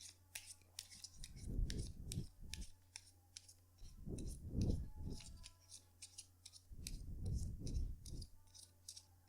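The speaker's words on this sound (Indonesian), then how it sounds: "kartunya dikocok dulu sebelum kita mulai" A deck of tarot cards is shuffled by hand, with three distinct bursts of riffling and flicking card noise spaced a few seconds apart, light crisp snaps and clicks scattered between them, close and quiet with no talk.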